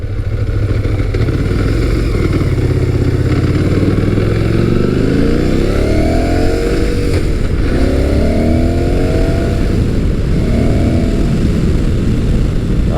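Motus MSTR 1650cc V-4 motorcycle being ridden, a loud continuous engine drone with rising and falling revs through gear changes, heard up close over wind noise.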